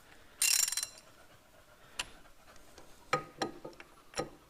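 A ratchet works loose the large front brake caliper bolts on a Range Rover L322 during a brake refurbishment. A quick burst of fast clicking is followed by several slower, spaced metallic ratchet clicks close to the mic.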